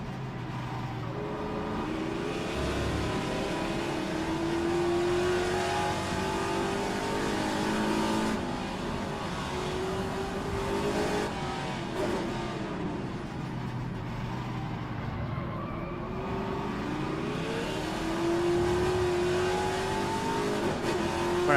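A classic Trans-Am race car lapping the Adelaide street circuit in a wild race with sliding, hot tyres, engine roaring loud and close, pitch climbing and dropping through gear changes and a chicane, steady throughout.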